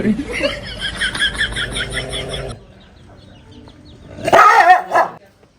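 A large dog barks in a series of loud, close woofs mixed with rooster-like calls and clucking, then goes quiet before a final short burst of loud barking.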